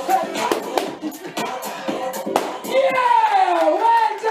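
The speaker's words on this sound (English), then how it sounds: "Clap it." Hotel evening entertainment show in Hammamet, Tunisia, where the audience claps along in scattered, irregular bursts, close and fairly loud, while a voice shouts encouragement and a drawn-out vocal tone rises near the end.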